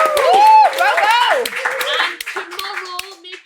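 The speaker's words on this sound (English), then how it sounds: "everyone in the studio, give a massive round of applause" Studio audience on a Lionesses football chat show claps briefly while excited voices whoop and cheer over it, a short, close burst of hands and shouting.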